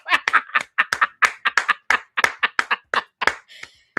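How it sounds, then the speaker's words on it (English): A run of sharp hand claps rings out in an uneven burst, about twenty quick, close, loud slaps with short gaps and no talking between them. "Give Edie Marie a hand clap of praise for her video."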